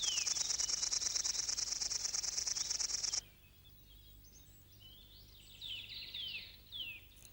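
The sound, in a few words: crickets and grasshoppers singing in tall grass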